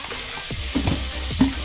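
Meat sizzles in a pan while being stirred, with a steady loud frying hiss and two or three distinct scraping strokes over a short stretch.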